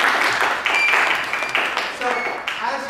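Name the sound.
audience applause for a performer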